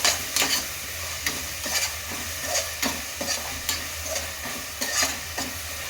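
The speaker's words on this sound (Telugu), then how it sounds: "వేసినాక కలుపుదాం. పచ్చి వాసన పోయేంత వరకు వేగాలి." Palak pulao ingredients frying in a pan, a steady soft sizzle broken by repeated scraping strokes of a spoon stirring, a rhythmic series of close, fairly quiet scrapes.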